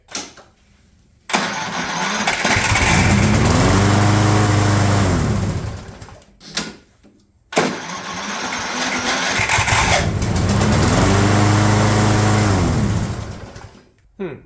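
Craftsman Platinum lawn mower engine cranking, two long bursts of whirring starter turnover with rising and falling pitch, separated by a short pause, loud and close with no talk.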